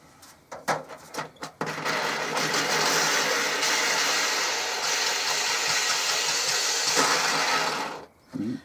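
Petrol engine of a Ryobi Expand-It trimmer attachment under repair runs steadily at a close, loud, even drone after a few short bursts at startup, cutting off near the end.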